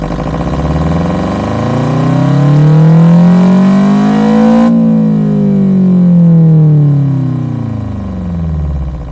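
A synthesized engine with a changed combustion pattern hums steadily with a smooth, rising then falling pitch, loud and continuous, like a motor revving up and easing back down.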